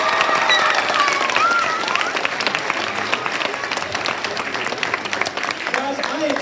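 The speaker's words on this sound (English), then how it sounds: "One more round of applause" Middle school students at a Gettys Middle School assembly clap enthusiastically in a school hall, with loud, dense applause that gradually thins, mixed with cheers and whoops and voices talking.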